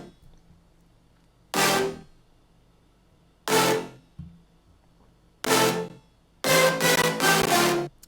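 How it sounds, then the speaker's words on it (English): Synth stab group from a remix drop, built partly from a tweaked preset: three short, loud, bright bursts spaced apart, then a longer run of rapid chopped stabs, with quiet gaps between. "And altogether, that stab group sounds like this."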